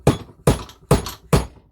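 A motorcycle fork stanchion wrapped in a rag, used as a slide hammer to drive out a fork seal on a Lifan 125: four sharp metallic knocks, evenly spaced about half a second apart, close and loud.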